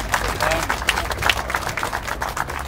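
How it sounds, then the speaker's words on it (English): A crowd at an outdoor community demonstration applauds volunteers who delivered letters, giving a steady patter of clapping mixed with murmuring voices, moderately loud and continuous throughout. "I think we need to give them a round of applause for what they've done"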